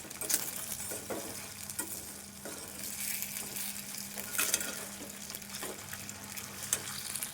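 Potatoes frying in a pan over a low flame give a steady, soft sizzle with occasional stirring scrapes, close and continuous throughout with no talking.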